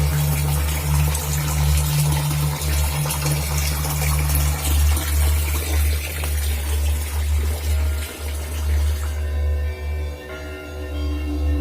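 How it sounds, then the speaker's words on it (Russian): Continuous rushing spring water flows steadily and loudly at a monastery, with a constant low rumble beneath it. "Есть на территории храма родник"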